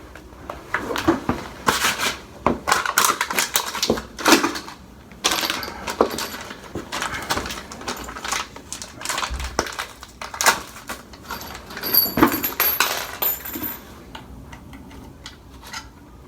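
Metal toilet bolts are handled and lined up, giving a long run of close, small clinks, ticks and scrapes in irregular clusters at a moderate level.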